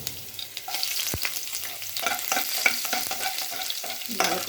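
Chopped ginger and garlic fry in a pan alongside fried nuts, a steady sizzle with clinks and scrapes as it is stirred, close and fairly loud, no talking.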